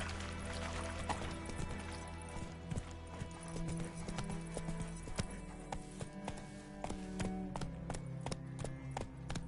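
Roach, a horse in The Witcher 3: Wild Hunt, gallops with a rapid, continuous clip-clop of hooves, close and steady, with no voices over it.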